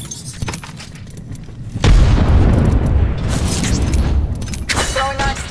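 A frag grenade goes off in a video game: after a few seconds of quieter clatter, a loud, close boom hits and rolls into a sustained rumbling roar.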